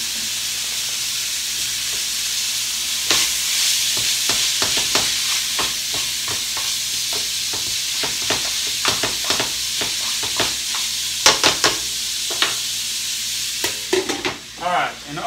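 Seasoned hamburger meat cooking in a pan for keto beef and cabbage, a loud steady sizzle with a run of sharp spatula scrapes and taps that grows busier and more irregular toward the end; no speech.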